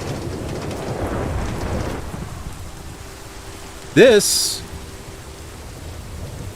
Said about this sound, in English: It always rains here.